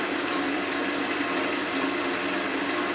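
A wood lathe spins while a spinning top is turned on it, giving a loud, steady whirring drone with a harsh cutting hiss and no pauses or talk.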